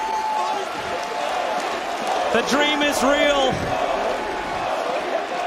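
A large arena crowd at The International 2018 Dota 2 grand final roars and cheers continuously, while an excited caster shouts over the noise.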